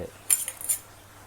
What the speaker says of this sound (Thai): ตักเข้ามาบี้ บี้ให้เนื้อมันแตก